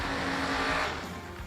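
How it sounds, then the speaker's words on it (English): A drag racing car with big tires does a smoking burnout at a raceway, a loud, steady engine roar with broad tire hiss that eases slightly toward the end. "Darian Bosch smoking it down to those big tires."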